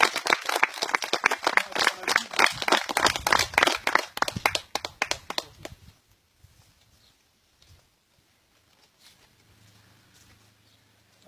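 Close, lively applause from the audience at an archery club's 20th anniversary celebration fills the first six seconds, then stops abruptly, leaving near silence.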